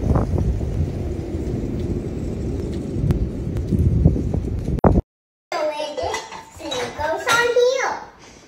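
Dishes, pots and cutlery clatter and knock together as a dishwasher is loaded, a busy continuous jumble of clinks for several seconds, followed after a brief silence by children's voices talking.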